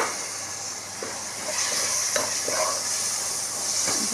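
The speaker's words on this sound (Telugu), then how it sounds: "కోసి పెట్టుకున్న టమాటా ముక్కల్ని వేసుకుందాం" Chopped tomato pieces frying in a pan, a continuous hissing sizzle with a few small clicks and stirring scrapes, heard close with no speech.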